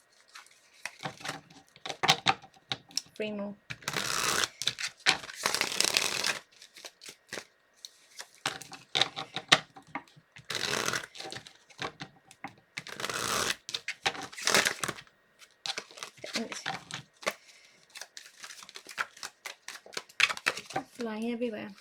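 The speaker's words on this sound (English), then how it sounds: "I'm going to do a few more shuffles here for you" Tarot cards being shuffled in repeated riffling bursts, crisp and close, alternating with a person talking between and over the shuffles.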